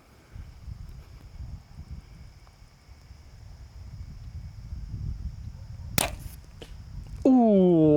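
An arrow tipped with a fixed Magnus broadhead slams into the fletching of another arrow at the target, giving one sharp, loud crack over light wind and rustling. A voice exclaims right afterward.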